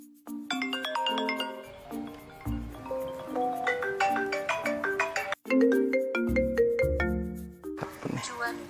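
A melodic phone ringtone chimes loudly and continuously in a repeating musical pattern, filling the room with bright tonal notes before cutting off near the end.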